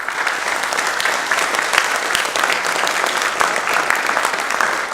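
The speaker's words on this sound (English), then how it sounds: "Just get your applause from the public." Audience applause after a talk at a hardware makers' event, a dense, even wash of many hands clapping, steady and fairly loud from start to finish with no talk over it.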